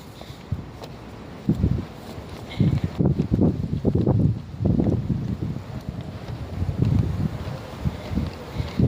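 Gusty cold wind outdoors in Warsaw, Poland buffets a nearby microphone in low rumbling surges that rise and fall, strongest through the middle, with faint rustling beneath.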